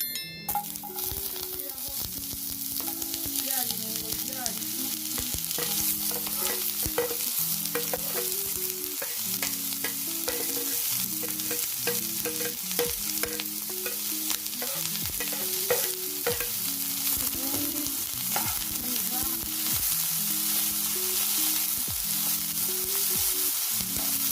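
A pan with a little oil sizzles steadily while an omelette is being made, a continuous close frying hiss that runs throughout under repeating background music.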